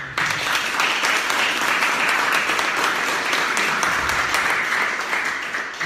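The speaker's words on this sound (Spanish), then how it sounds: "Un aplauso para todos ustedes." Steady, dense applause from a live audience at a 500th-episode recording in Lima, Peru, sustained and full throughout with a few scattered louder claps and no voices.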